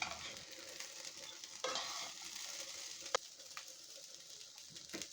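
Elephant ear beans frying in a pan, heard as a quiet, steady sizzle with faint stirring scrapes and one brief tap of the utensil; no speech.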